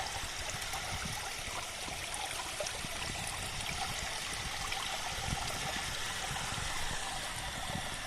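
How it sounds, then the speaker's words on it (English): Water swirling through a biodynamic flowform cascade on an organic farm, a continuous trickling and gurgling stream sound, steady and close, with no voices. "the water is getting circulated in a vortex form, both in clockwise as well as in anti-clockwise direction"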